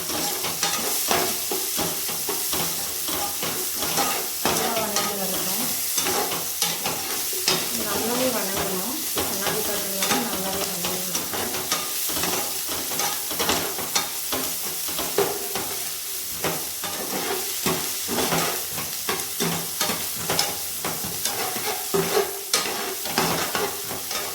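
Chopped medium onion frying and stirred in a pan for okra gravy, a steady close sizzle with frequent scraping stir strokes throughout, no talk.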